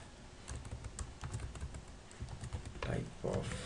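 Keys clatter steadily on a computer keyboard in quick irregular taps, close and moderately loud, with a voice speaking over part of the typing.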